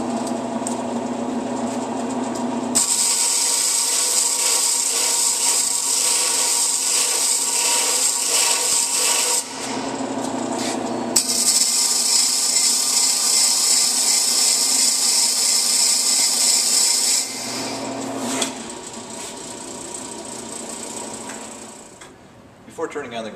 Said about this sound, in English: we'll run this back and forth across here, holding it on the tool rest, keeping the dressing wheel square to the stone